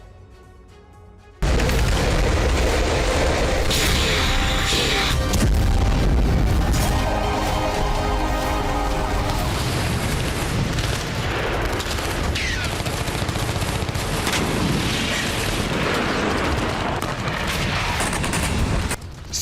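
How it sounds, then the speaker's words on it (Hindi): Heavy bombardment of the Shujaiya refugee camp, with loud explosions and rapid bursts of gunfire crackling and booming continuously after a brief quieter opening. "आबादी वाले इस इलाके में जबरदस्त बमबारी शुरू हो गई है।"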